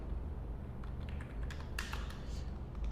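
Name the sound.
typing a title on a computer keyboard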